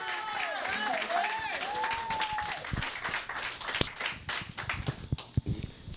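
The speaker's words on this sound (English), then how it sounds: "put your hands together and give a thunderous, thunderous round of applause for our panel guest, Prose." An audience claps for a panel guest on a talk-show stage, a loud patter of many hands that thins toward the end, with a voice speaking over the start.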